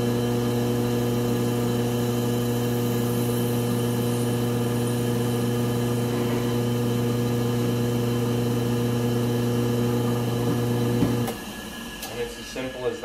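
A neck turning tool with a carbide guide trims a 6.5 SAUM brass case neck, giving a steady droning mechanical hum that runs evenly for about eleven seconds before stopping into lighter handling clicks.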